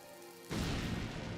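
In The Legend of Zelda: Link's Awakening on Switch, a bomb explodes against a cracked rock: quiet game music cuts to a sudden loud blast that keeps rumbling to the end.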